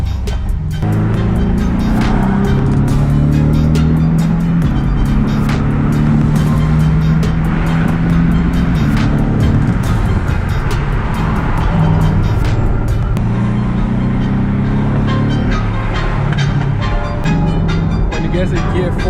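A 2018 Porsche 718 and a 2020 Ford GT race side by side, engines droning loud and steady at speed with crackling exhaust pops, while people talk over the continuous roar.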